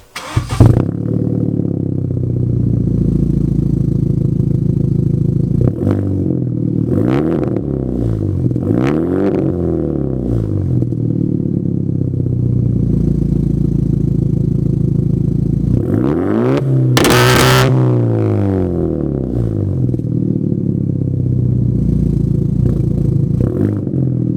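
Aftermarket exhaust on a turbocharged 2.0T car, loud and close, starting up and then revving repeatedly in rising and falling sweeps over a steady rumbling idle, with one sharp burst near the end.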